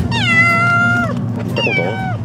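A pet cat newly brought home meows twice up close, each call long and drawn out with a falling tail, over a steady low background hum.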